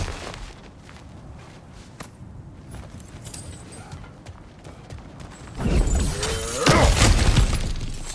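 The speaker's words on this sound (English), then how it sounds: "back to smashing through things for fun and profit" Ground cracking and shattering under heavy blows in God of War Ragnarök, a loud burst of breaking debris after a quieter stretch of footsteps and ambient game sound.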